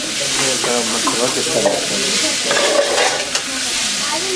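Chaat ingredients being mixed, a steady close scraping and stirring with a sizzling texture running throughout, fairly loud, with no talk over it.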